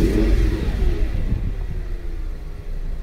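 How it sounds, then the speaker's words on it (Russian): An Audi S8 engine with about 300,000 km on it revs up with a deep, throaty rumble and a steady hiss of air being drawn in through the intake, loud and close, with no talking. "как только ты касаешься газа, он сразу слышно, как он там через всю свою впускную систему хапает воздух"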